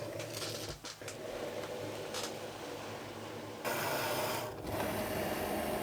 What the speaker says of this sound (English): and cut it with my machine